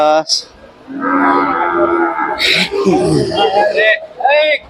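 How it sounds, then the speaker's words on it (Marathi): A Khillar cow lows at the Sangola cattle market in Solapur, Maharashtra, giving a long, loud, drawn-out moo, with market voices talking around it. "गाय चांगली वाटते दुधाची परंतु"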